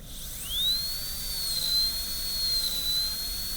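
A dental drill with a burr cuts a tooth during a composite prep. It starts with a close, high-pitched whine that rises quickly and holds a thin, steady tone, wavering slightly as it bites, over a soft low hum.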